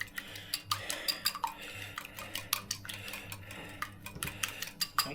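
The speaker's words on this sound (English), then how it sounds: "A bit of a whisk." Eggs being whisked into canned tomato in a pan, a series of light metallic clinks and taps against the pan in an uneven rhythm, fairly quiet and close.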